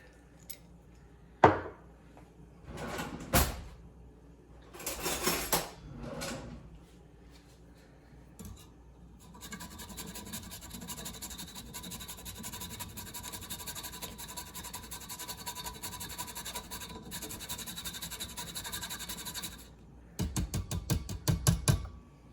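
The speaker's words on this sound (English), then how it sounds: "And then I'm going to grate some nutmeg into my batter." Nutmeg grated into muffin batter: a long, steady rasping scrape running for several seconds, preceded by a few clinks and taps of kitchen utensils, close and fairly quiet.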